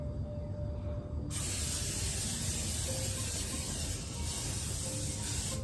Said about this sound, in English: On a 9x5 loaf pan with cooking spray.